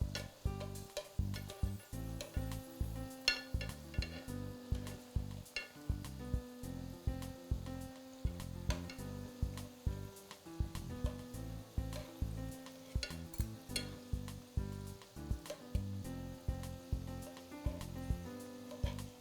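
Date-filled makrout pastries fry in hot oil with a continuous bubbling sizzle, while rhythmic thumping and clattering from handling the pieces repeat throughout.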